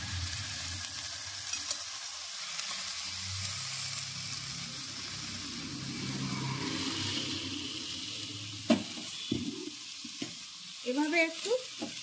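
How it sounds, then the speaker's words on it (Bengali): Vegetables for homemade atta noodles sizzle and fry in hot oil with mustard seeds as they are stirred, a steady close crackle broken by a few sharp scraping knocks of the spoon toward the end. "এরপর সব সবজিগুলো আমি তেলের মধ্যে দিয়ে দিচ্ছি।"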